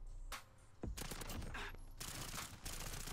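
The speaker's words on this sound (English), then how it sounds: "see how fast this one shoots with the 80 rounds on the weapon" A Sykov pistol fitted with 80-round magazines fires in the video game Modern Warfare. It lets out a dense, rapid stream of gunshots in loud bursts with only brief gaps, and no voices are heard.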